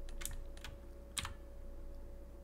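Keys on a computer keyboard are pressed while working in Blender 2.83, two or three soft clicks in a quick cluster, then a single sharper tap, all close up over a steady low hum.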